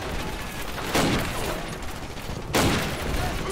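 Machine gun fire in the video game Call of Duty United Offensive, a constant rattling barrage with two louder bursts standing out over continuous battle noise.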